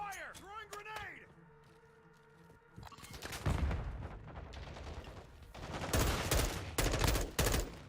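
Video game gunfire in The Callisto Protocol: a quiet stretch with a tonal game sound, then dense bursts of rapid shots building from about three seconds, with heavy volleys near the end, loud and close over game effects.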